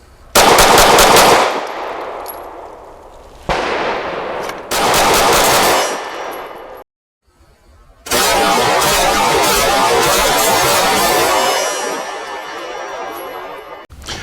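Rapid pistol fire from a Glock 19 fitted with a Lakeline ported barrel: loud, fast strings of shots in several bursts, with a short quiet gap before a longer final string.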